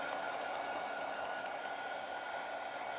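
Heat gun or hair dryer drying paint on a craft piece, a steady rushing whir of blown air held at constant level throughout, with no talking.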